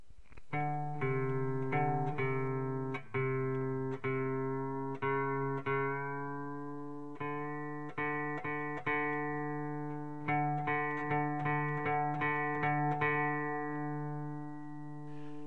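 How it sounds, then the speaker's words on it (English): A single guitar string, the 4th, is plucked repeatedly with pauses, its pitch sliding slightly as the tuning peg is adjusted, ringing out clearly alongside a reference note. "by adjusting the tuning peg on the 4th string"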